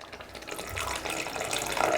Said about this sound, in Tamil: இப்போ இதில் வந்து கொஞ்சம் போல் நம்ம சுடு தண்ணி சேர்த்துக்கோங்க.